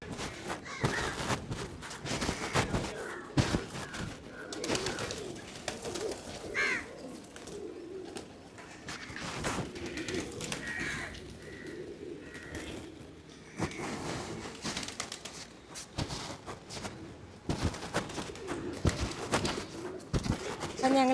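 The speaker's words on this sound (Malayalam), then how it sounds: "എന്തോരം പ്രാവുകൾ അവിടെ നിന്നറിയാം" A flock of many pigeons coos repeatedly, soft throaty calls layered over one another at mid distance, with people talking intermittently over the birds.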